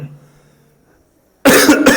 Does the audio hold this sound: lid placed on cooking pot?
no